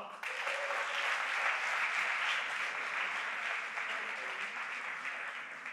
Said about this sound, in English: For Malaysia, big round of applause please for Nakib Aslan.